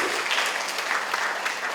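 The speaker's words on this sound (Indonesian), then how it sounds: "Berikan tepuk tangan bagi Yesus." A church congregation breaks into loud, dense applause, a close, continuous rush of many hands clapping with no voices standing out.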